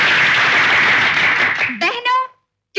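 Applause from a club gathering in the 1980 Bollywood drama film Agreement: a dense burst of crowd clapping that fades after about two seconds and gives way to a speaking voice.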